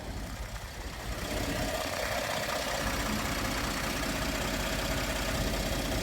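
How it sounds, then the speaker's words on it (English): A cold Ford 3.5 EcoBoost truck engine idles steadily before warming up, a continuous close rumble with broadband mechanical noise and no knocking, heard alone without talk. "The truck's not knocking right now because, as you can see, the engine hasn't come up to temp yet."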